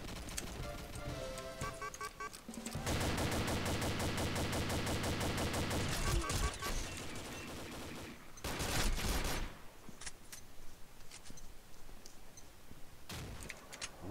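Machine gun fire rattles in long, dense automatic bursts in the online shooter game Combat Arms, mixed with scattered single shots and game effects, loud and continuous for most of the stretch.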